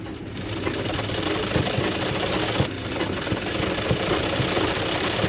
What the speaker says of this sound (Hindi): इसके बाद एक सिलाई ऐसे चलाएंगे फिनिशिंग के साथ।